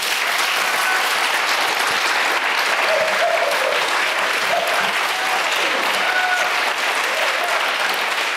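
Steady, dense applause from a conference audience thanking a youth roundtable panel, a continuous even wash of clapping with no pauses throughout.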